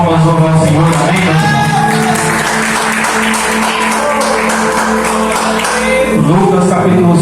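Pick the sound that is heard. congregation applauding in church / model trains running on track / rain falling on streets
congregation applauding in church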